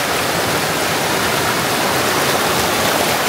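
Swift river water rushes in a steady, loud, broadband roar at close range, unbroken and constant throughout, with no voices.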